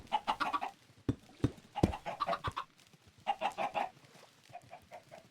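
Repeated Minecraft chicken clucks in short bursts, near and fairly loud, with a few sharp taps between the groups and no talking.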